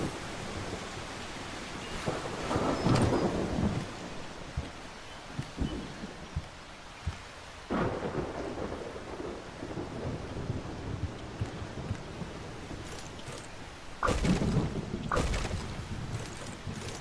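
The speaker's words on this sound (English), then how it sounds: "I wish it would just stop raining." Rain and thunder in the video game Solarpunk, a continuous soft rain wash broken by several sudden thunder bursts and rumbles spread across the stretch, fairly quiet overall, no speech.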